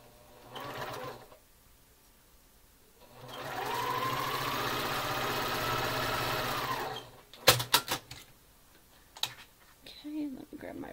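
A sewing machine stitches a quilt block from corner to corner in a rapid, buzzing run lasting about four seconds, framed by quiet handling noises and faint clicks before and after.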